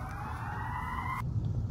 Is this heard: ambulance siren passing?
yes